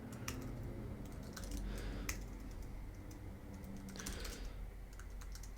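Scattered keystrokes on a computer keyboard, soft irregular clicks at close range over a low steady background hum, with no voices.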